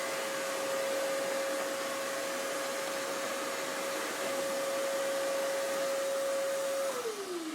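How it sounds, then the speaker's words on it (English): Shop vacuum droning steadily up close while sucking dirt out of the bottom of a Ford Mustang 2.3L air filter box, a constant whine that drops in pitch as the motor winds down at the end. "so I'm going to go ahead and vacuum that out"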